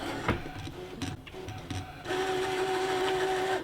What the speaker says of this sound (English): It's just throw it in the machine and let the machine cut it out.